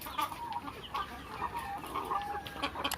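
Laying hens on a poultry farm cluck in quick, overlapping bursts, with many birds chattering together at moderate distance over a steady barn background.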